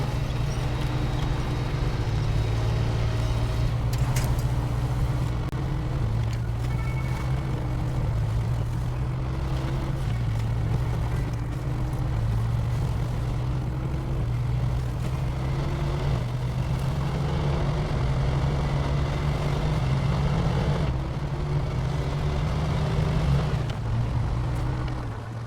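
A heavy off-road vehicle's engine drones in the Snowrunner video game, a steady low rumble with a constant hum that holds evenly throughout as the truck drives slowly near a riverbank.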